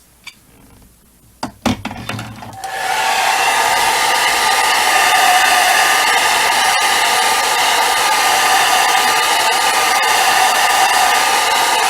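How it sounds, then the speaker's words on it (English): A hair dryer drying a watercolor painting switches on after a couple of soft clicks and handling knocks, then blows in a loud, steady, close whine that continues to the end. "Mainly just drying in this area so I can pull up the tape."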